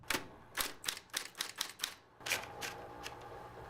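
Typewriter keys strike in quick, uneven bursts of sharp clacks, close and clear in a quiet room, with a short pause midway before the typing resumes more slowly.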